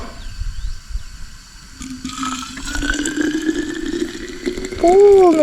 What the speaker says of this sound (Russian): Полный термос наливаю.